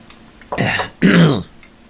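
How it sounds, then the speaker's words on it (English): Two harsh coughs, a short one followed by a longer, heavier one, close to the microphone with brief quiet between them. "Sorry about all the fucking coughing into the microphone there."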